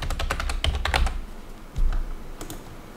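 Fingers tap out text on a computer keyboard in quick bursts of crisp key clicks, then a pause, a heavier thump and a few scattered presses, close and with no talking.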